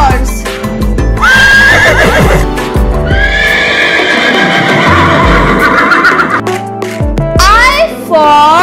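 A horse whinnies loudly and up close, a long shrill neigh followed by clip-clopping hooves and another neigh, with a voice speaking briefly over it.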